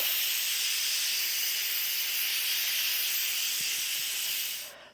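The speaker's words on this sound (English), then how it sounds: "We're actually just going to tap that to vent, and all the steam is going to escape." An Instant Pot venting steam during pressure release after cooking potato soup: a loud, steady, close hiss that holds evenly for several seconds and then cuts off abruptly at the end.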